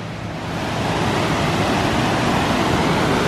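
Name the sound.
waterfall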